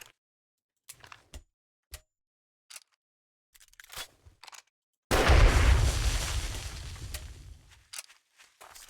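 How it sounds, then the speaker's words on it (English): An explosive barrel shot in a video game: scattered sharp clicks and small thumps, then one loud blast that rolls out and fades over several seconds. "Let's shoot the barrel."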